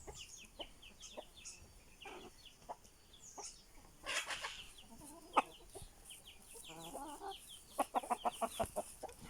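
A rooster and hens in a backyard garden cluck and chatter close by, with scattered sharp calls and a rapid burst of clucks near the end, no talk over them.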